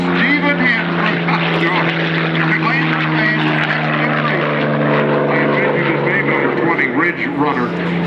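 A Rolls-Royce-powered unlimited racing airplane at the Reno Air Races roars loud and steady with a sustained propeller-engine drone throughout, while an announcer talks over it.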